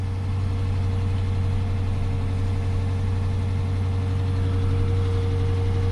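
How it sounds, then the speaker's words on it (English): A 2018 AWD police Dodge Charger engine idles steadily with an upper-end clatter after sitting for a few days, a constant close low rumble with a faint ticking texture throughout. "you can hear that clatter, that upper end clatter that it's got, because it's been setting for a few days"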